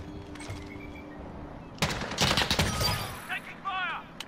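A sudden burst of rapid automatic gunfire in Call of Duty Modern Warfare on a docks map, loud and close, fading into scattered echoes and faint game chatter.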